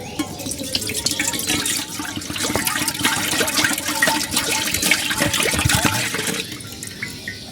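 Milk poured into a cooking pot at a village stove makes a loud, close, continuous splashing gurgle that runs steadily for several seconds, then thins out and stops near the end.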